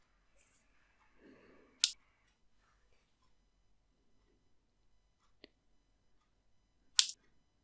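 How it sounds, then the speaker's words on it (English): Wire cutters trimming earring wires just above the beads give two sharp, close snips a few seconds apart, with a small tick between them in an otherwise quiet room; no talking. "We're then going to trim those wires just at the bottom where they're touching the beads"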